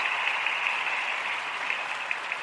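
A crowd applauds in a steady wash of clapping, dense and even, with no single claps standing out and no voices over it.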